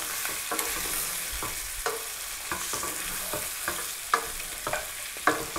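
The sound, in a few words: stirring chicken curry in a pan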